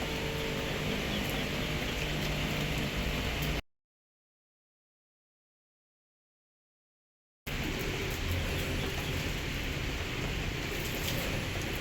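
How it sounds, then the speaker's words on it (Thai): Outdoor rainfall hisses steadily and fairly close, with birds or a rooster faint in the background, broken by a few seconds of total silence midway before the rain resumes. "ฝนตกตรงนี้"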